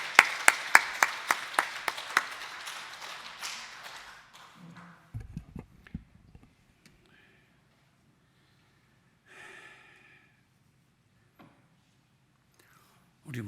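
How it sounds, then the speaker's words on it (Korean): A Korean church congregation claps to welcome the pastor at a Sunday service, a brief burst of applause fading out over a few seconds, followed by sparse shuffles and quiet room noise. "우리 이신 목사님 나오실 때 박수로 환영하겠습니다"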